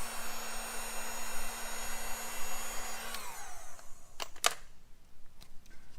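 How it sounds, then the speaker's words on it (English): A heat gun blows hot air on a widebody Honda Civic hatchback during prep for a wrap. A steady, close whine and rush of air runs for about three seconds, then winds down to quiet with a few faint knocks. "take my heat gun here, kind of heat it up a bit, try and blow it out"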